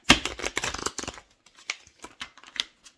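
Tarot cards being shuffled by hand: a dense burst of riffling and flicking for about a second, then scattered softer card slaps and sliding, close and fairly quiet with no talking.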